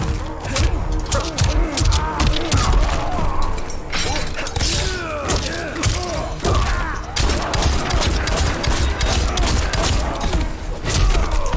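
Rapid gunfire from Erron Black in Mortal Kombat 11, a dense, loud barrage of cracking shots and clanking impacts layered over fight effects, continuous through the whole stretch with no pauses.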